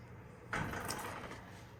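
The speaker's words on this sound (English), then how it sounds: "This is another sliding door that locks." A sliding barn door in a resort hotel room rolls along its track, a faint quiet room tone broken by a soft thud and a brief rumbling slide, with no talking.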